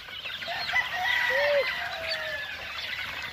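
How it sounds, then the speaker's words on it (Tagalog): Chickens cluck and call at close range on a gamefowl farm, with a short rooster-like call standing out among the steady clucking and no talk over it. "energetic yung mga manok natin."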